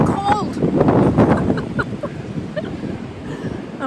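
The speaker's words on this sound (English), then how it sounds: "Listen to that wind." Strong wind gusting through a cold outdoor garden under pine trees, a steady broad rush buffeting the microphone while a person speaks over it.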